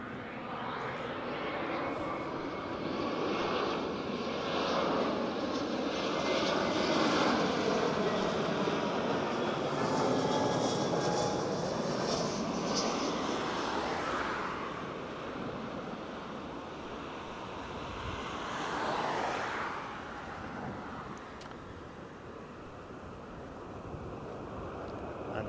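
A Lufthansa airliner passing at Barcelona El Prat airport, a broad jet roar that swells over several seconds, then fades and recedes into a distant rumble with a second brief surge later, no voices present.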